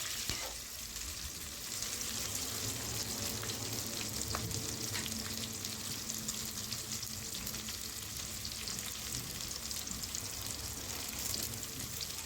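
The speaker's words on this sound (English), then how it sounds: "I've added one by one and making it fry well so that it won't give raw taste" Masala Maggi ingredients fry steadily in a pan, a dense, continuous sizzle and crackle with faint stirring scrapes, close and even in loudness throughout, with no talking.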